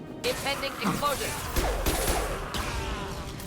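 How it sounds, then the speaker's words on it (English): An explosion in the Mass Effect 2 video game lands as a roaring, crackling burst of debris and blast noise that lasts about a second, mixed with combat sound effects and someone talking. "Impending explosion."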